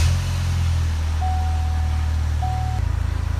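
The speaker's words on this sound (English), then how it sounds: "Let me go ahead and get the car started." Car engine being started for a LAUNCH Millennium 90 scanner test, a steady low idle rumble running close and loud, with a thin whine appearing before the sound changes near the end.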